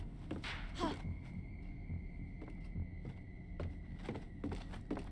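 A quiet, steady heartbeat thumps at a regular pulse under a faint sustained tone, signalling rising fear in the survival horror game Song of Horror.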